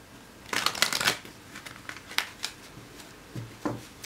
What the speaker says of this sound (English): I am going to shuffle these cards